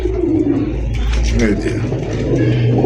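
Fancy racer pigeons cooing in a low, throaty murmur under steady background noise, with people talking nearby.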